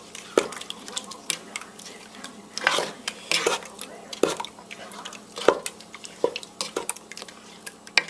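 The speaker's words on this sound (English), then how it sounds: "mix our fruit pectin into the strawberries" A spoon stirs fruit pectin into strawberries in a pot, giving soft irregular clinks and scrapes against the metal with wet squishes between them, close and fairly quiet.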